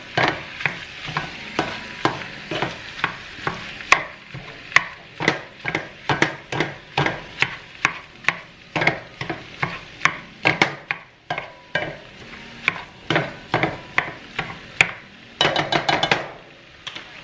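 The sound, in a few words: seasoned beef cooking and being stirred in pan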